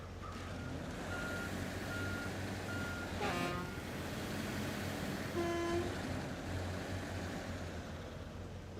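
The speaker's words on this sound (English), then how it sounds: "horn." A logging truck's horn in the SnowRunner video game, in a Wisconsin logging setting, gives two short toots over a steady engine drone, after a run of reversing beeps, with no talk.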